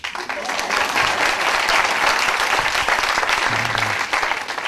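Loud, sustained applause from a large audience at a lecture event, an unbroken wash of clapping throughout.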